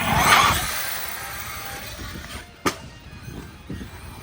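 Arrma Fireteam RC car racing toward and over a big jump outdoors, its motor a steady buzzing whine under wind noise, with a sharp thump of landing near the middle and a smaller knock toward the end.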